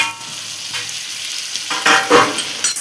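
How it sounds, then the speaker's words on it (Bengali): Tomato frying with onions in a hot pan, giving a steady sizzle with bursts of stirring scrapes that grow louder toward the end. No voices are heard. "এবার পেঁয়াজের মধ্যে টমেটোটা দিয়ে দেবো।"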